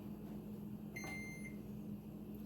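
A single electronic beep from a new air fryer being set to preheat, a short clear tone over a steady low appliance hum in a quiet kitchen.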